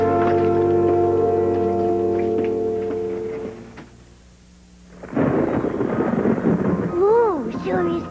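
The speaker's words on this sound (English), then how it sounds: "sure is stormy" Sustained organ-like tones fade out and give way to a loud, noisy wash of storm rumble and rain, with a voice speaking over the storm.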